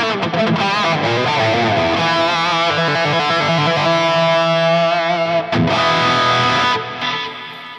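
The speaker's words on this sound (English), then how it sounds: "Some echo and some reverb." Distorted electric guitar playing chords through a Line 6 Metallurgy amp model with boost, drenched in echo and reverb, loud and sustained, ringing out at the end.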